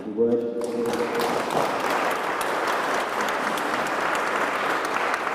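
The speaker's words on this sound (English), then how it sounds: "I want to give a nice round of applause to all of our panelists here today" A brief voice gives way to a room full of people applauding the panelists at a Safe Streets meeting held at Great Overland Station; the clapping is steady and even to the end.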